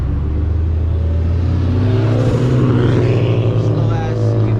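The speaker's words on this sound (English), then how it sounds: "Let's hear this Evo. See if this Evo gonna make some noise." Mitsubishi Evo engine revving loudly nearby in steady low rumble, rising in pitch midway as the revs climb, with street traffic noise around it.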